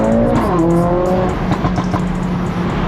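Mercedes-AMG A45 S engine revving hard as it accelerates along a city avenue, a loud continuous exhaust note with rising harmonics that shift up through gears and crackle, close and dominant with no talk.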